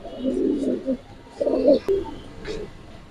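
Pigeons coo up close in low, throaty bursts, a few rounded calls separated by short pauses.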